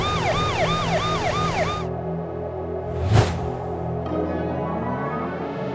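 A cartoon police car lost in a snowy forest wails its siren in a rapid up-and-down sweep that cuts off partway, leaving steady background music with a brief whoosh, fairly loud and with no talking.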